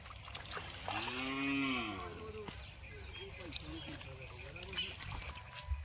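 A cow on a farm gives a loud, drawn-out moo near the start, followed by quieter rural background sounds and some talking.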